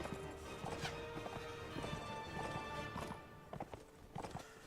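Horse hooves clip-clop steadily in Mount & Blade: Warband, a continuous rhythmic walking gait of hoofbeats with brief surges, heard alone without speech over a busy game soundscape.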